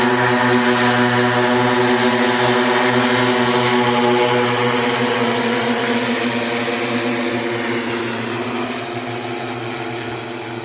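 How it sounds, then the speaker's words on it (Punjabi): An IFFCO agricultural drone sprays a potato field, its rotors giving off a loud, steady, harmonic whine that holds constant and eases slightly toward the end. "ਲੱਗ ਗਿਆ ਬੰਦਾ ਸਾਡਾ ਡਰੋਨ ਨਾਲ ਸਪਰੇਅ ਕਰਨ"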